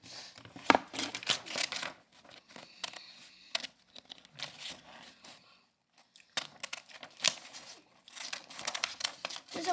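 Scissors snipping and crinkling paper close by in bursts of crisp cuts separated by quiet pauses, with no talking.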